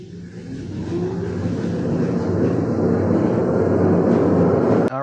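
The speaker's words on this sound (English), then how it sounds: "So next up for the dyno, we have the CYC Hunter." A CYC Hunter dual-battery electric bike, a full-suspension model, spins up on a dyno, its steady broadband whir and roar climbing gradually in loudness over several seconds before cutting off abruptly at the end; no one speaks.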